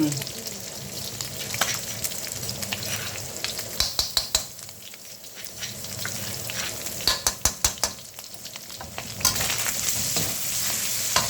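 Pork stir-fries with shrimp paste in a hot pan, with a steady close sizzle broken by bursts of sharp metallic scraping and clacking from the spatula against the pan.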